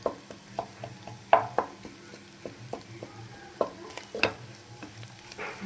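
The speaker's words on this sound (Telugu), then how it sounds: "మంచి ఫ్రై అవుతుంది కదండి" Fish and carrot fry being stirred in a pan, close spoon scrapes and clinks against the metal at an irregular rhythm over a low continuous sizzle.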